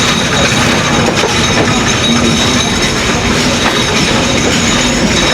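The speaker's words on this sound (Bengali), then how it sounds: "আমাদের ট্রেন চুয়াডাঙ্গার উদ্দেশ্যে রওনা দিয়েছে" A Mahananda local train on the Khulna to Chuadanga line rolls along with a steady, loud roar and rattle of carriages on the rails, continuous throughout with faint wheel clatter and no talk.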